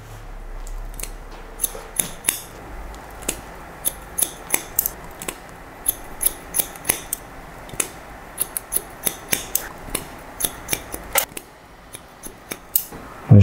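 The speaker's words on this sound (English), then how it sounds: "I'm going to point cut into this bit because it looks quite thick through here" Scissors point cut into thick hair during a men's haircut, a long run of crisp, close snips coming in quick irregular clusters over faint room noise, with no talk.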